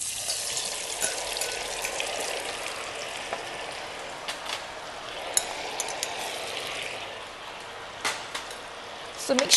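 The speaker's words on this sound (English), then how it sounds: "I shall fry the beancurd or tofu first" Tofu frying in hot oil in a pan for Malaysian sambal goreng, a steady broad sizzle that holds for the whole stretch, with a few sharp pops and spatters near the end.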